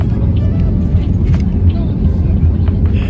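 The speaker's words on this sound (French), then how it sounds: "Atterrissage là, les mecs." An airplane lands in Tenerife in the Canary Islands, heard as a loud, dense, continuous low rumble of engine and runway noise from inside the cabin, steady for several seconds.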